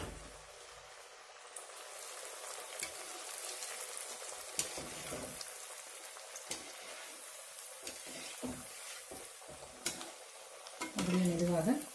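Banana flower vadai frying in hot oil give off a soft, steady crackling hiss, with scattered pops and light clinks of a utensil, growing louder near the end.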